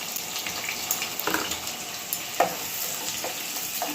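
Chopped onion sizzles and crackles in hot oil in a wok for a chicken curry, a steady frying hiss with small pops and stirring scrapes throughout.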